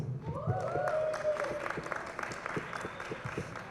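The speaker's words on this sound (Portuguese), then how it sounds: "Uma salva de palmas." Applause from the audience at a São Paulo MC culture talk event, a steady wash of many hands clapping, fairly close and moderately loud, with a sliding tone and some talk sounding faintly underneath.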